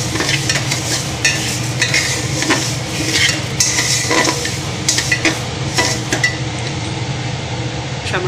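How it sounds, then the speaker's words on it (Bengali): Fried dal being stirred in a pan for Bengali-style khichuri, a close, loud scraping and clattering of a utensil against the pan over a low sizzle, with no talking. "ভেজে রাখা ডালটা দিয়ে দেবো। দিয়ে এবার ডালটা দিয়ে নাড়াচাড়া করবো একটু"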